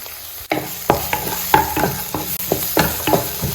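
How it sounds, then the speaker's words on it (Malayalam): Eggs being mixed with coriander leaves in a frying pan, about eight distinct spatula scrapes and pushes over a soft background sizzle, close and clear with no talking. "ഒരു ഫ്ലേവറിന് വേണ്ടിയിട്ട് കുറച്ച് മല്ലിച്ചപ്പ് ഇട്ട് കൊടുക്കട്ടോ എന്നിട്ട് മിക്സ് ചെയ്യുക"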